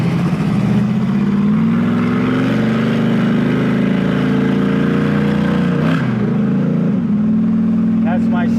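A Camaro with a radical cam accelerates hard in first gear, its engine note climbing steadily as a loud, close, continuous drone before it drops away near the end. A person talks over the engine.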